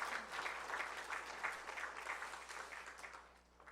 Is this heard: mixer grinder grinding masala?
no